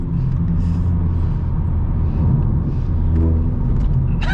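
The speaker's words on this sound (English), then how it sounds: "This car sounds good," A SEAT FR front-wheel-drive car's engine rumbles steadily from inside the cabin while driving, a continuous low drone holding constant with no talk over it.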